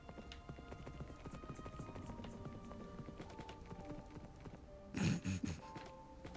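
Horse hooves clip-clop steadily in a Dungeons & Dragons video game, a continuous rhythmic trot under the game's music and ambience, with a brief louder thump near the end.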